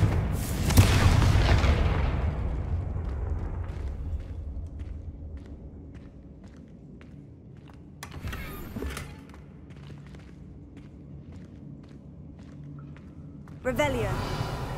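A Confringo fire spell detonates with a deep, loud boom in Hogwarts Legacy, then fades into low rumble, scattered thuds and footsteps, with a second sharp burst near the end.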